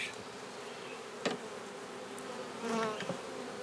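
Quiet, steady buzzing of many honeybees near a hive, with a few individual bees flying close by and louder for a moment.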